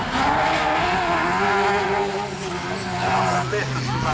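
Lightweight autograss race cars roar past at Castle Combe, a loud continuous engine drone with shifting pitch as several vehicles pass close by, with commentary spoken over the noise.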